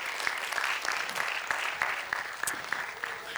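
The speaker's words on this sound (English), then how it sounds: "Give him a warm applause and give all the love to him." A conference audience claps to welcome a speaker onto the stage at a 2019 science symposium, with moderate, dense applause and individual claps standing out, continuing steadily.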